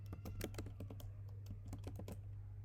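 Quiet, steady typing on a computer keyboard while an email address is entered into a web form, a string of crisp individual key clicks at an uneven rhythm, close and alone without speech.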